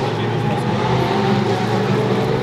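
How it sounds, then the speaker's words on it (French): Ferrari race cars lap the Le Mans circuit during the 24 Hours centenary, a steady engine drone heard from a distance under crowd ambience and a voice talking. "Là, il y a des Ferrari qui tournent, on les entend."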